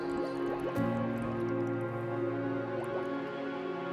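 Gentle underwater bubbles for a guided meditation rise in soft, dripping pops over a steady watery hum, with a few distinct bubble bursts standing out alone and no talking.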